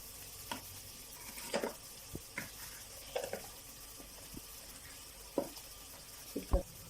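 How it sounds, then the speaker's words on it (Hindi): Biryani masala and salt stirred into garlic ginger paste, a run of soft scraping and tapping strokes from a spoon in a pot, irregularly spaced with a few sharper clinks, close and fairly quiet, no talk. "इसको अच्छी तरीके से हम अब मिक्स कर लेंगे"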